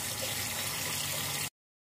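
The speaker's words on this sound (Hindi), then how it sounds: "मैंने इसको छान लिया और हमें इसको ठंडे पानी से जो है वो धो रही हूँ" Cold tap water runs steadily over strained boiled pasta, a continuous soft rushing stream that stops abruptly, fairly faint and without speech.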